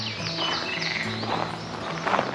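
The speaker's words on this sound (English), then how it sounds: "I think that's frogs." Frogs croak from a path by the water on a walk through Ponta Delgada in the Azores, a busy outdoor chorus of low repeated calls and scattered chirps mixed with faint steps and ambient noise.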